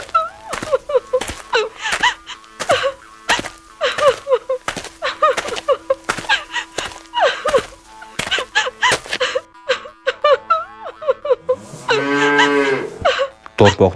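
A calf in a Kyrgyz cartoon moos in a long, drawn-out call near the end, after a run of sharp, rhythmic clicks and knocking; the moo is close and clear.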